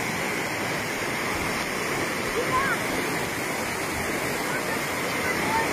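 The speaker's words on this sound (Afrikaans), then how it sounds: "Ja, dis verskriklik baie water, julle." High water of the Incomati river in Kruger Park rushing past: a loud, steady, dense roar of flowing water that fills the whole stretch without pause.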